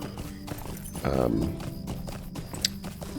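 Horses in the Lord of the Rings Online video game at the Bree horse-race area, with clip-clop hooves and a whinny under a dense game soundscape.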